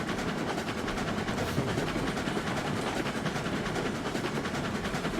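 A Cooke Mogul steam locomotive in the RailRoads Online video game labours up a hill, with a steady, dense rhythmic chugging and clatter that stays loud and close throughout.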